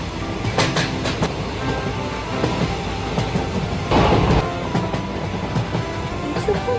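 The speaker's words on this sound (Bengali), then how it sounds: "স্টেশনে গিয়ে গোবরডাঙ্গার একটা টিকিট কেটে উঠে বসলাম ট্রেনে।" A train runs on rails as an animated sound effect, with a steady rolling rumble and faint rhythmic clicks from the wheels, plus a brief louder surge near the end. No voices are heard.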